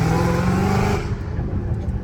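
A Dodge Challenger Hellcat Redeye engine revs loud and close, with a rising, harmonically rich roar. The revs drop off after about a second into a rougher, lower rumble.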